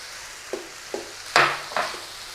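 Green peppers stir-frying with beef in a hot pan, a soft sizzle under a few separate scraping and tossing strokes as the ingredients are moved around.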